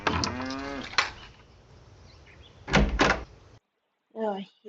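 A cow moos in the Nancy Drew game The Secret of Shadow Ranch, a drawn-out lowing call at the start followed by door-like thumps and another short animal call near the end, all fairly close and clear.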